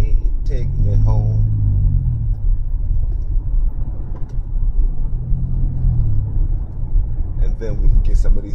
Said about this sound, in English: I'm driving down a country road, a long country road, country highway